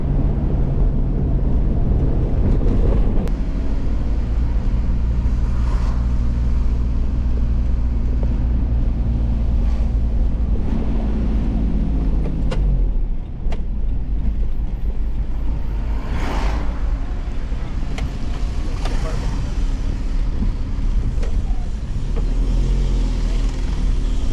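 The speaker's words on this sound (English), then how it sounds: "that was a quick driving impression of the Kia Pregio" A Kia Pregio van driving on a road, its engine and road noise a loud, constant rumble with wind buffeting throughout, rising a little at times as it accelerates, and a voice talking over it.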